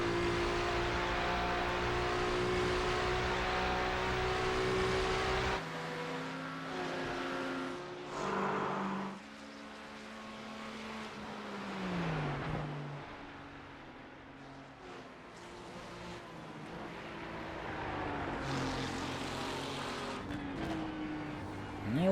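A Ferrari V6 race car engine in a video game roars and revs, shifting pitch up and down as it accelerates and slows, loud and sustained with no talk over it.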